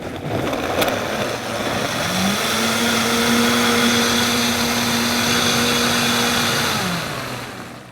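A blender whirs through a mango smoothie with romaine and kale, a loud steady motor drone that ramps up, holds for several seconds, then winds down.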